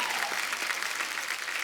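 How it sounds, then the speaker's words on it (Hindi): Studio audience applause for actor Vicky Kaushal on a comedy show set, a steady continuous wash of clapping from a crowd with no distinct individual claps. "इनके लिए एक बार जोरदार तालियां हो जाएं"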